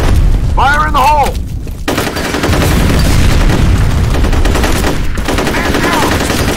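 Grenade blast and gunfire in a F.E.A.R. Combat multiplayer match on the Campus map, loud continuous bursts of shooting and booming impacts filling the clip, with voice radio chatter briefly heard near the start.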